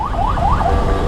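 An ambulance siren wails in traffic from behind, its rising and falling tone sweeping in loud, steady cycles over a low rumble of engines.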